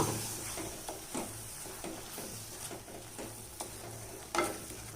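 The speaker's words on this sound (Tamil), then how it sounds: "இப்போ நல்லா அந்த மசாலாவை நல்லா வதக்கிக்கணும்." Chettinad paneer gravy masala sizzles and sautés in a pan, with a steady hiss and irregular stirring scrapes and taps throughout, close and moderately loud.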